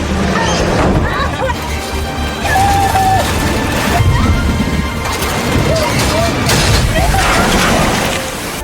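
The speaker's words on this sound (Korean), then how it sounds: "차량 충격으로 다리가 빠지면서 다행히 목숨을 건진 멜러리" A car crashes during a heavy rainstorm, with repeated loud smashing and crashing impacts that rise and fall over several seconds amid a steady rumble of rain and water.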